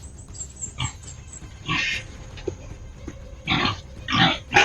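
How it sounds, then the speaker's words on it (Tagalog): A pig grunts and squeals in several short, close bursts spaced irregularly over a quiet outdoor background. "Oh, baboy."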